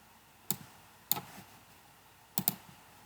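Sharp mouse clicks in GMSH meshing software, three sets of one or two quick taps spaced about a second apart, close and fairly quiet against a faint room hum with no talking.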